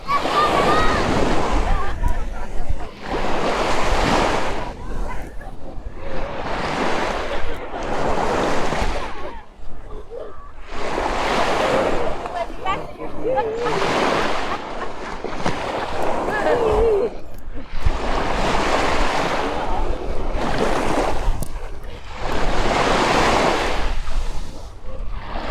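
Waves break and wash onto the beach at L'Escala on the Costa Brava, repeated surging roars every few seconds with wind buffeting the microphone and faint voices in the background.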